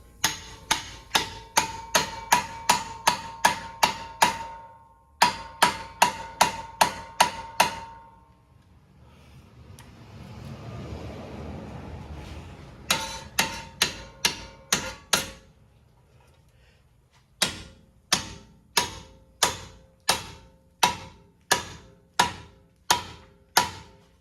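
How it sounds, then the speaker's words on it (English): A hammer strikes repeatedly on the ball joint of a 2010 GMC Acadia lower control arm, sharp metallic blows in quick rhythmic bursts separated by short pauses, with a stretch of quieter rustling in the middle. "I'm gonna hammer off camera for a little bit."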